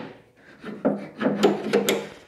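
Unlocking the sides of an MFT pivoting workbench: a few wooden knocks, rubs and clicks in quick sequence, close and moderately loud.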